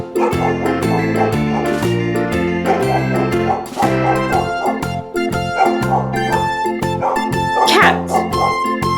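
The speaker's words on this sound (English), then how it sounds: "Dog." A dog barks a few times over steady, loud background music with a bouncing beat, part of a set of animal sounds.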